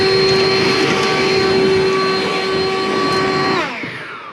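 A Scag battery-powered lithium-ion backpack blower blowing out a garage, a loud steady high-pitched whine with airy rush that holds for several seconds, then spins down near the end, close and alone.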